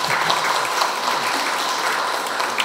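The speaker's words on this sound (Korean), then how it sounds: "박수 한번 치고 하자고 그러네요." Audience at an education forum in Siheung, Korea, gives a steady round of applause, dense even clapping at a constant level throughout with no talk over it.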